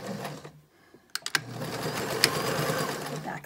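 Sewing machine backstitching along the folded edge of a fabric face mask: a few sharp mechanical clicks, then a steady, close whirring run of stitching with no talk.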